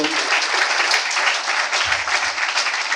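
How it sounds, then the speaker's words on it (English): Steady, dense applause from a crowd, sustained and fairly loud throughout with no pause. "a round of applause for"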